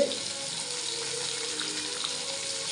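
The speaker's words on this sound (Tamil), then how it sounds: "இதை நல்லா வதக்கி விடணும் நல்லா வதக்கணும்" Garlic and coconut sauté in oil for a fish curry, giving a steady, even sizzle that holds at one moderate level throughout, with no voices over it.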